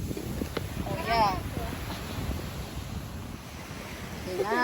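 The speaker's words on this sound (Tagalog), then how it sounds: "Yan bang ingay ng ano, dagat." Sea waves on a beach at Nasugbu, Batangas wash in as a continuous, close, wind-buffeted roar. A voice speaks briefly over the surf.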